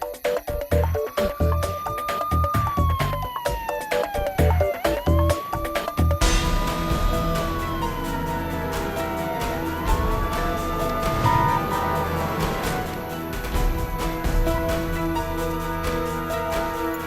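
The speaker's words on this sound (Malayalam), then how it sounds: "ആംബുലൻസ് ആയിരുന്നു" A wailing ambulance siren sweeps past in a movie scene, rising and falling in long loud glides over traffic rumble, growing fuller midway as it draws closer, with sharp knocks and thuds early on.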